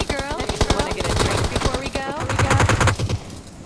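Rapid automatic gunfire in the battle-royale game PUBG, loud repeated shots in quick bursts mixed with game sounds and excited voices talking over them.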